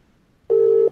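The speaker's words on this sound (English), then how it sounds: "I'll see if I can get Rudy on the phone." A telephone line tone sounds as a call is placed, one clean steady beep lasting under half a second after near silence.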